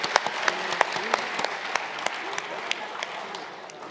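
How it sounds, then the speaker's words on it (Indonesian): An audience at a formal Indonesian event breaks into applause, a dense, even clatter of many hands clapping steadily for several seconds at close range, with no clear speech. "Boleh sekali lagi tepuk tangannya Bapak Ibu."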